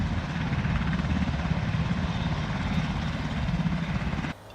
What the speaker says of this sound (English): they give you an opportunity to take a helicopter ride, which is what you hear right now